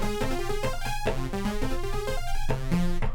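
Synth 2 patch on a Novation Circuit plays a busy sequence of bright, harmonically rich notes over a low bass line, steady and moderately loud throughout with no voices.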